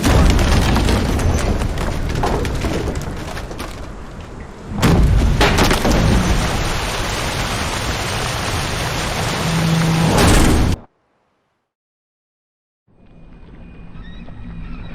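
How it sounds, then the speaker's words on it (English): Heavy storm at sea in The Witcher 3: Wild Hunt – Hearts of Stone, with loud roaring wind, rain and water noise, sudden booming surges, then a silent break before the storm noise returns. "Didn't bargain for no storm."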